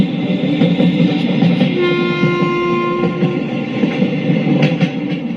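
Moving train in an animated story, a loud continuous rumble of wheels and carriages close by, with a sustained horn blast sounding through the middle and rhythmic clatter underneath.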